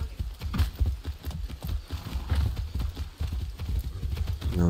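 A horse gallops in the video game Far Cry 6, with steady, rapid clip-clop hoofbeats running continuously and fairly loud throughout.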